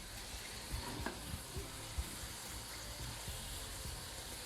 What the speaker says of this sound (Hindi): अब इसकी थोड़ी फ्लेम तेज़ करते हैं और 1 मिनट के लिए इसकी भुनाई करते हैं